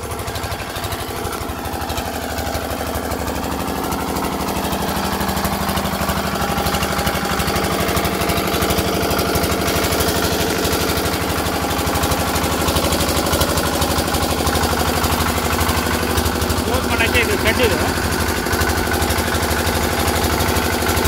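A Comet compact 3.5 HP engine drives a PS16 sprayer on a pomegranate farm, running loud and steady with a constant throbbing drone and no talk over it.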